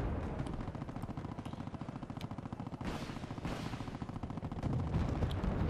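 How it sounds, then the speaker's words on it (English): Artillery fire in the real-time strategy game Wargame Red Dragon, a dense, continuous barrage of booming shots and rumbling impacts layered into a steady roar, swelling louder toward the end with no voices. "Artillery firing."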